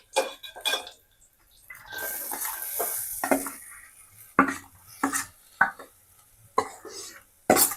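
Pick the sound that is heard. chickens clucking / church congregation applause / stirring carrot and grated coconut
stirring carrot and grated coconut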